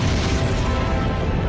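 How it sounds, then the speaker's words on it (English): A massive meteor impact explosion, a dense, sustained roar of low rumble and broadband blast filling the whole stretch at steady high loudness, with no voices. "It would be a massive explosion with chunks of molten material flying around the Earth ballistically"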